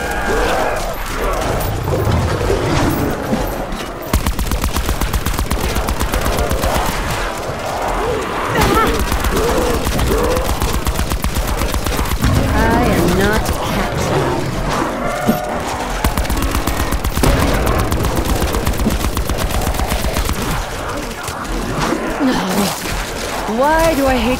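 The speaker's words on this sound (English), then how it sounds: "Why do I hate shooting these tigers?" Loud, continuous weapon fire at tigers in Call of Duty Black Ops 4 Zombies, rapid automatic bursts and crashes layered with game effects, with a voice speaking over the shooting.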